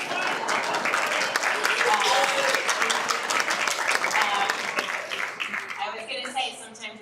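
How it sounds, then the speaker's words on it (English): Loud, sustained applause and cheering from an audience at a Schechter School of Long Island gala fill the room, tapering off near the end. "I appreciate the cheering"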